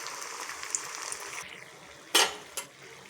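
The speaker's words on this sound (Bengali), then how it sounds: "ওরকম করে উল্টে পাল্টে ভেজে নেবো।" Semolina snacks fry in oil in a soft, steady sizzle, then two sharp clatters come as the pieces are turned over with a utensil.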